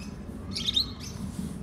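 Conure parrots call to each other, with one short, shrill chirp rising out of a low, murmuring background midway through.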